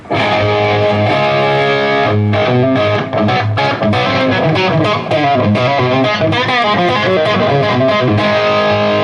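A crunchy, distorted electric guitar plays a thick, sustained riff with chords ringing continuously, loud and close.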